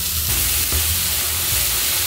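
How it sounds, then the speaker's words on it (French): Sauce sizzling while being stirred in a frying pan, a dense, continuous loud hiss with faint scraping underneath, close and steady for the whole stretch. "Voilà, je remue dans la poêle."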